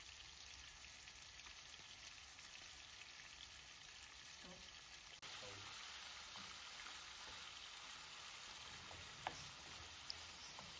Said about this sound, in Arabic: شوية زيت حلوين في الطاسة بتاعتي، وهنزل بالكبدة هوزعها فيها كويس